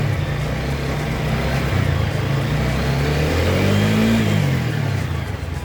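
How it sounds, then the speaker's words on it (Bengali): A TVS Apache 4V motorcycle engine runs loud and close as the accelerator is worked, its revs rising and falling in steady surges with a whirring drone throughout; no talking. "দেখেন আমাদের অ্যাক্সিলেটরটা দেখেন আর পিএমটা কিন্তু বাড়তেছে"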